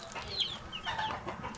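Chickens cluck softly nearby in a short burst of a few clucks, with faint background noise and no talk.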